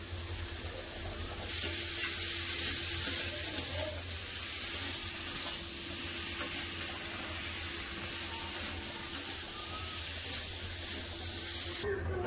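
Chopped cabbage hitting spiced oil with onions and vegetables, giving a broad, steady hiss that holds evenly throughout, close by with no clear talk over it.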